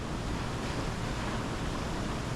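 Violent Hurricane Milton wind gusts roaring over a beach, a loud continuous broadband rush that buries any distinct flapping from a huge 90 by 64 foot tarp over fish houses.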